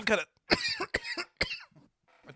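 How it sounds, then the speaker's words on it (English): A person coughs several times from smoking weed, in short harsh bursts, close to the microphone, with brief pauses between them. "the cough. That's the weed cough"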